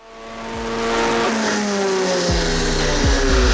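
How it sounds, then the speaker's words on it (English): A Stage 3 VW Scirocco warms up at the Santa Pod drag strip, its engine droning loudly and steadily with rising revs and a couple of short throttle blips. "We're just about to warm our cars up."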